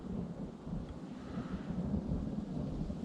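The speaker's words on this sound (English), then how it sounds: "There's definitely thunder overhead." Low thunder rumbling overhead in English woodland in Essex during a summer camp, a steady deep roll filling the whole stretch with a faint hiss of light rain beneath it.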